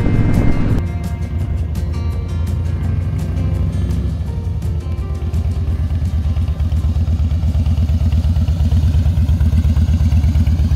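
A 2013 Harley-Davidson Softail Slim motorcycle on a test ride: a steady, loud, close engine rumble with a rhythmic throbbing exhaust beat, accompanied by wind and road noise, with no talk.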